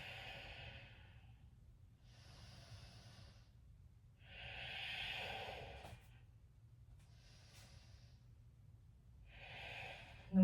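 Slow, deep breaths during a vinyasa yoga flow, held in a humble warrior pose: several soft, airy inhales and exhales in a steady rhythm, faint and close in a quiet space.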